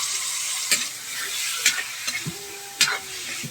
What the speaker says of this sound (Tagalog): gigisahin lang natin yan mga idol para matanggal yung lansa